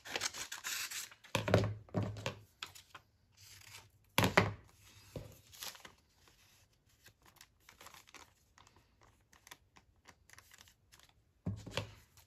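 Paper envelope being cut with scissors, a few brisk snips and crinkles in separate bursts with quiet gaps between, close up and alone.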